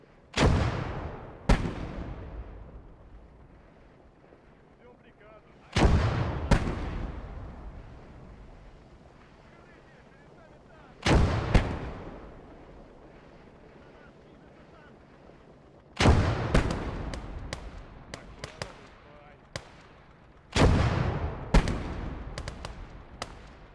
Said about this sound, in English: We have a second field artillery piece as well.